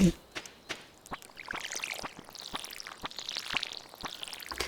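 Water pours and trickles in a light, bubbly stream as a watering can fills in a farming video game, while sharp clicks tick at a regular pace, fairly close and moderately loud.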